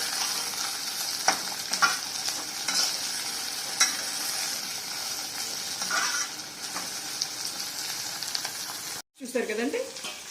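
Green beans and peas frying in a pan as they soften, a steady loud sizzle with occasional stirring scrapes throughout and a brief break near the end.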